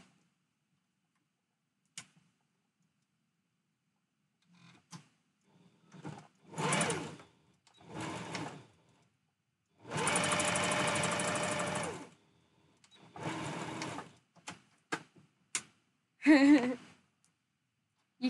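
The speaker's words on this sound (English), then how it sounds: "I'm actually going to run it through the sewing machine one more time" A sewing machine runs in short bursts, whirring for a second or two and then stopping, with one longer run in the middle and small clicks between.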